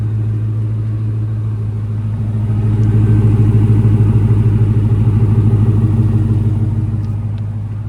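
A 2004 Ford Mustang GT convertible with a V8 engine idling, a steady deep burbling rumble close by that swells slightly midway and holds, with no talking over it.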